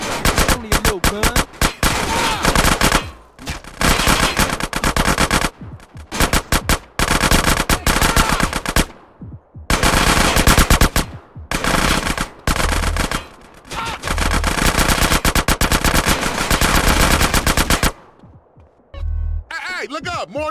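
Machine gun fire in GTA San Andreas Definitive Edition, loud, sustained automatic bursts broken by short pauses, tapering off toward the end.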